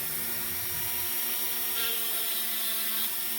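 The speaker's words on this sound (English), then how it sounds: "we have this sanding bit in here right now, which for this little snowball, you see, it's just a little bit big" A Dremel sanding bit rounds a small wood carving of a snowball, producing a continuous high, thin whine and light abrasive rubbing, up close and without speech.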